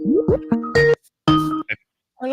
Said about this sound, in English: Oh, we got a phone call, Dan.